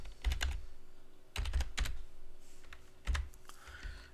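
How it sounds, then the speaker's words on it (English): Typing a command on a computer keyboard, with quick bursts of close key clicks in short clusters separated by brief pauses, alone with no talking. "So let's type in teensysync menu"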